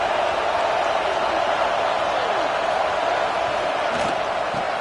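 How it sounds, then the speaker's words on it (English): Stadium crowd roaring at a college football game in a tough road environment, a steady loud wash of cheering and noise throughout with a commentator's voice talking over it. "Listen to the crowd energy here in the early going."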